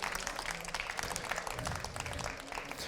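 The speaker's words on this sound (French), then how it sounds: "je vous invite à les applaudir chaleureusement" An audience at an awards ceremony applauds in a steady, fairly faint patter of many hands clapping, continuing for about three seconds.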